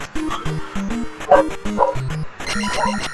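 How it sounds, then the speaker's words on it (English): Several dogs bark outside in the cold, sharp repeated yaps and woofs overlapping close by in an irregular burst, with a few whiny yips mixed in. "my dogs were barking, obviously, in the background"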